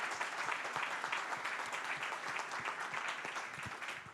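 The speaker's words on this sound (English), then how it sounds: "Please give them a round of applause." Audience applause for three panel speakers at a research collaboration conference session, a dense, steady wash of many hands clapping that holds at an even level throughout and tapers slightly at the end.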